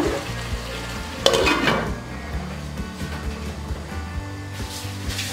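Rice frying and being stirred in a pan, with a scrape of the spatula and a steady, close sizzle, a brief louder clatter near the start and no talking.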